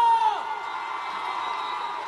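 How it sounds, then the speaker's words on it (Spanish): Crowd at the Suena Caracas 2014 music festival in Caracas cheering and whooping loudly, a dense steady roar of many voices carrying on throughout, with a brief voice at the start. "Eso no se oye, por favor, ¡fuerte el aplauso!"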